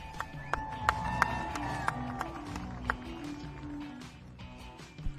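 A crowd at the 2025 Joint Base Andrews Air Show claps and cheers for an Army Golden Knights parachute jumper, scattered applause and whistles rising over low outdoor rumble, moderately distant and fading toward the end.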